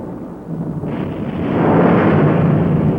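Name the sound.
thunderstorm breaking, thunder in a cartoon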